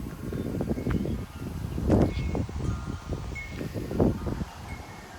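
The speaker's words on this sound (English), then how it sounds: "these are definitely strong winds." Gusty wind in Frisco, Texas during a 40-50 mph windstorm rumbles against the microphone in uneven bursts. Two stronger gusts peak a couple of seconds apart, with faint rustling in between and no voices.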